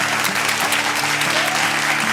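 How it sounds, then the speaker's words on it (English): A live audience at a Kolkata cooking-event finale applauds to welcome a chef onto the stage, steady dense clapping throughout with no speech over it. "Please welcome with a round of applause for our very own chef, Chef Sean Kenworthy"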